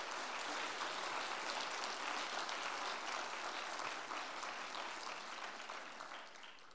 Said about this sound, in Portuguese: Uma salva de palmas para o nosso coral